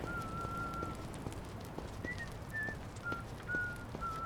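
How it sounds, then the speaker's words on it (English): A man whistles a short tune in Like a Dragon: Infinite Wealth, clear sustained notes in a few phrases, moderately near, over faint ambient game sounds and soft hoofbeat-like thuds. "Is that Kiryu up there whistling?"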